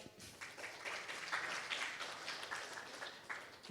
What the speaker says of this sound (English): Maybe give a round of applause for all of us.